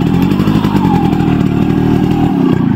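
A Yamaha RX motorcycle engine runs loud and steady throughout, a continuous close two-stroke drone with no speech over it.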